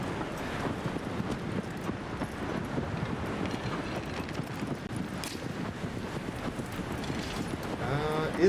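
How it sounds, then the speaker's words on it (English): Horse hooves in Shadow of the Colossus on PS4, with a steady run of clip-clopping hoofbeats at close range under wind noise and occasional talking. "This is my favorite horse."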